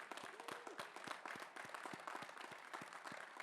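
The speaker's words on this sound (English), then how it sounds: "The applause is for you now." Applause from a graduating audience at a 2021 Northeastern University undergraduate commencement, steady and fairly faint, with individual claps standing out in a rough rhythm over the dense wash of the crowd.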